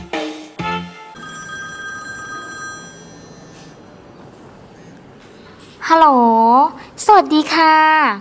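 A telephone rings near the end with warbling electronic bursts, two loud rings separated by a short gap, after a quieter stretch with a brief voice and tones.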